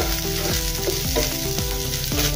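Onions softening in a hot pan give off a steady, close sizzle and frying hiss that runs the whole time, partly blended with background music playing over it.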